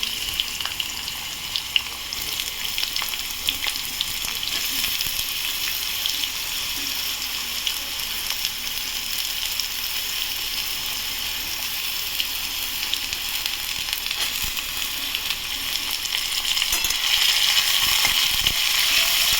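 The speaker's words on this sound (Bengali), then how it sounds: "আলুটা ভেজে নিচ্ছি।" Potatoes fry in a pan with whole cumin seeds and dried chili, giving a steady hissing sizzle with scattered pops and crackles that grows slightly louder near the end.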